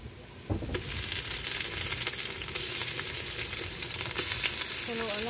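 Meat for adobo stir-fried in a pan, a continuous close sizzle with repeated spatula scrapes and clacks against the metal, steady and fairly loud throughout.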